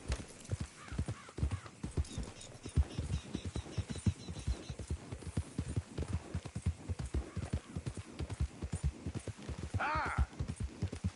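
Hooves of a horse in the Red Dead video game clip-clop in a steady, brisk gait throughout, close and prominent, with a brief whinny near the end.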